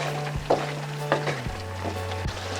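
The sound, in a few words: stirring sizzling beef with squash in pan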